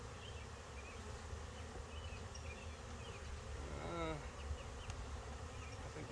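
Honeybee foragers flying around a hive during a hive split, a faint continuous buzzing drone with one louder bee passing close by midway.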